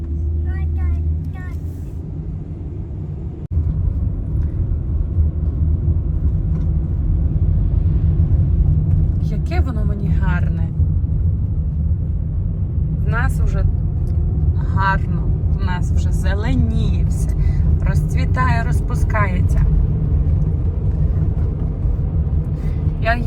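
A car drives along a road, heard from inside the cabin as a steady low engine and tyre rumble that runs throughout, with someone talking over it at intervals.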